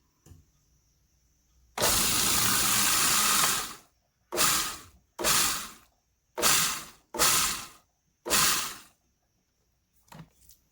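A blender blitzes vegan zucchini cookie batter with vanilla. One long whirring burst of about two seconds is followed by four or five shorter pulses, each starting and stopping sharply, close and loud, with no talk.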